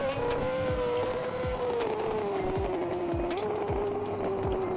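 Race car engine in a racing video game droning steadily through a lap, its pitch sliding down and back up with periodic gear shifts and faint tire squeal, loud and continuous with no talk.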